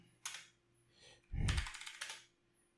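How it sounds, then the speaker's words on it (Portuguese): Quiet typing on a computer keyboard while a Linux server command is entered, with a few scattered keystrokes and then a denser burst of clacks ending in a firmer key press. Close and soft, with no talk. "Então eu vou digitar sudo apt update"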